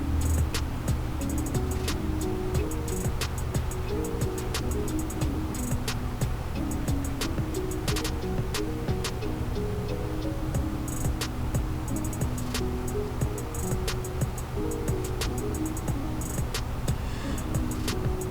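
Small motor of a tumbler turner spinning slowly, a steady low hum with faint regular ticks running throughout, no talk.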